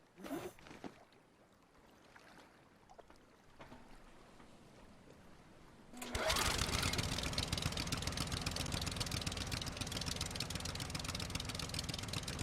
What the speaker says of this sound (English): Congrats! You now have a metal monster with a boat motor.